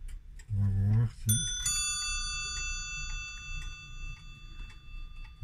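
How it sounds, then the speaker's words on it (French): A Zenith pendulum clock strikes the hour on its bell, giving a clear ringing stroke that decays slowly while the steady tick of the movement continues underneath. A voice murmurs briefly beforehand. "elle indique 10 heures, donc elle sonne 10 heures"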